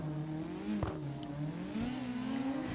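In the video game CarX Drift Racing, a car engine revs and drones steadily with rising and falling pitch, loud and continuous throughout, with a brief sharp spike near the middle.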